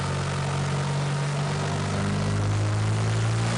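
A car engine fitted with an AEM Tru-Boost controller pulls through the gears in third, a loud, steady close-up drone whose pitch climbs gradually with no talking.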